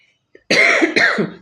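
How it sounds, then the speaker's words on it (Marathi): Two harsh coughs close by, one right after the other, following a moment of near-silence. "खोकला येतो आहे"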